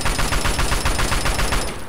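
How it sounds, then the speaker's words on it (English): An assault rifle fires in Fallout 3, a loud, close stream of rapid shots running steadily for under two seconds. "How about an assault rifle? I got... plenty of shots for that."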